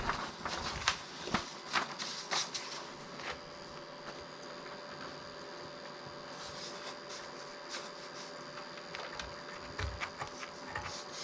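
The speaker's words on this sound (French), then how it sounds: "Donc là on va devoir le serrer, donc c'est avec les molettes juste en dessous" Bed-leveling knobs beneath an Artillery Genius Pro 3D printer being turned by hand, giving a run of soft, close ratcheting clicks and scraping rubs in uneven bursts, alone with no talk.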